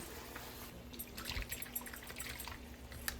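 Water poured into a kadai paneer gravy paste in a pan, a soft trickling splash with small drips and a faint steady hum underneath, quiet and close.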